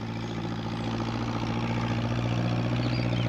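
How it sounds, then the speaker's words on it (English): A tractor engine idles steadily nearby, a continuous low diesel rumble and throb with no voices over it, holding at an even, fairly loud level throughout. "What with the noise of the tractor, Peter Fogg didn't hear Pat's call."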